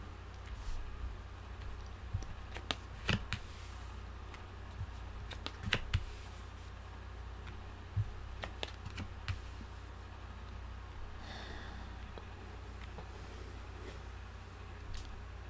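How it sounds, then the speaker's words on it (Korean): Soft clicks and light taps of tarot cards being handled and laid down on a table, scattered close and fairly quiet over a low background hum. "타로 카드 열어볼게요."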